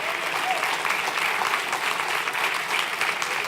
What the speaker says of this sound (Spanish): Iglesia, dale un aplauso al Señor.